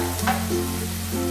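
Onion, garlic and ginger sauté in a pan for a mushroom capsicum butter masala, giving a brief, steady sizzle with soft stirring sounds on top.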